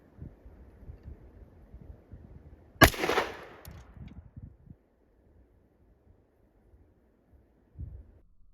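A 12 gauge shotgun fires a single loud, sharp blast of a reloaded shell outdoors, followed by a short decaying echo, faint wind and rustle before it, then near silence with a small thump later.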